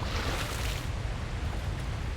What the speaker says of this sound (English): The waterfall makes noise now.